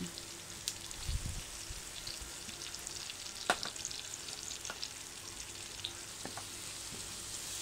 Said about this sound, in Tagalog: ilagay natin ang butter sa kawali, tunawin at ilagay ang bawang